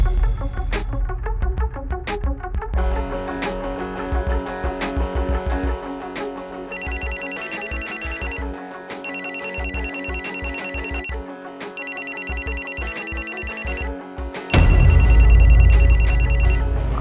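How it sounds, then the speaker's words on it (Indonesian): A telephone rings on and off in repeated bursts and goes unanswered, loud and close, over a musical background during a drama scene. "Kok teleponnya nggak diangkat"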